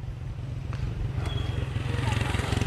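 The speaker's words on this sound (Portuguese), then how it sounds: "E lá vem a porra da moto." A motorcycle passing by outdoors, its engine droning steadily and growing louder as it approaches, with someone talking over it.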